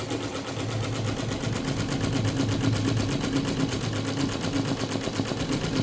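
An embroidery machine stitches a blanket with a steady, fast mechanical whir and rapid needle rhythm, running continuously and close at a constant level with no pauses.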